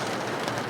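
Rain falls on a Victorian masonry work site, a dense, even hiss of drops filling a very short moment.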